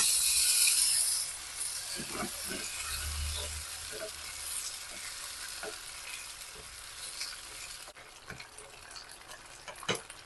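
Black bean sauce simmering over low heat in a pan for steamed fish tail, a soft steady sizzle with occasional spatula scrapes and knocks, fairly quiet and close.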